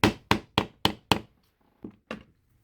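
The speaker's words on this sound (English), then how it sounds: "So I'm going to hammer it just a little bit more." Hammer blows setting a metal eyelet into leather: five sharp, evenly spaced strikes, then a pause and two softer taps, close and crisp with no talking.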